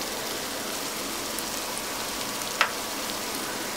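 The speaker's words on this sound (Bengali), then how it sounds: "তেলের সাথে পেঁয়াজটাকে একদম নরম করে ভেজে নিতে হবে।" Chopped onions fry in oil with whole cardamom and cinnamon, giving a steady, dense sizzle that stays even throughout, with one brief crackle partway through.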